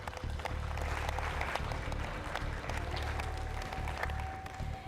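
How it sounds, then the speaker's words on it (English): Audience applause fills a university quiz show hall at the EU-Fiji University Quiz Challenge, a steady wash of clapping with low hum underneath and a faint tone entering near the end. "give them a big round of applause"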